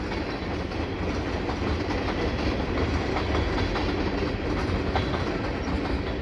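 A CPKC mixed freight train with many tank cars rolls past under the Dorval ramp heading west. It makes a loud, steady rumble with rhythmic wheel clatter that lasts throughout and never lets up.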